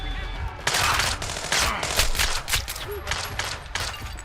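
Dense gunfire in Splinter Cell Blacklist, loud and close, with rapid overlapping bursts forming a near-continuous fusillade over a noisy rumbling background.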